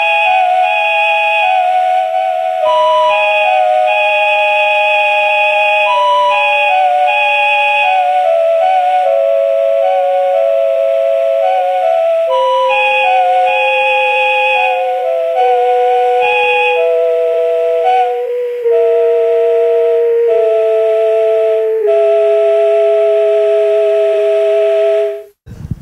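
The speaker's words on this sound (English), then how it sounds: "I also recorded each of the individual Andes notes onto this Reader's Digest cassette recorder, which is great." Suzuki Andes recorder notes played back from a Reader's Digest cassette recorder, a warm, slightly warbly flute-like tone stepping through sustained pitches one after another, loud and alone, cutting off abruptly at the end.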